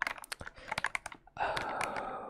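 Keys clack on a custom mechanical keyboard, a quick close run of sharp individual strokes followed by a denser flurry of typing over a faint steady hiss.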